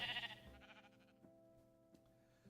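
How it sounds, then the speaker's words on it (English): A sheep bleating in a video game: one close, wavering bleat at the start, then a low ambient game hum with a few faint clicks, no talking. "we've got a bunch more sheep over here"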